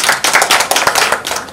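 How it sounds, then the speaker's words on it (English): A conference audience at a women's leadership forum gives a speaker a round of applause: dense, close hand clapping with uneven surges, loud and with no voices on top. "Give her a big round of applause"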